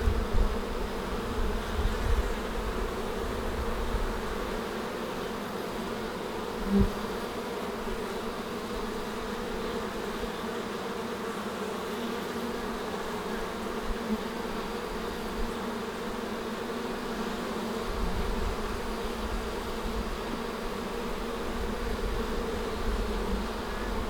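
Honey bees drone steadily at a hive during an emergency swarm-prevention inspection, a dense, continuous buzz close to the microphone with a few brief bumps and handling knocks.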